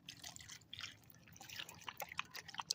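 A dog laps water during a rest stop on a hiking trail, with soft irregular wet slurps and drips that grow busier toward the end, faint and close against quiet outdoor background.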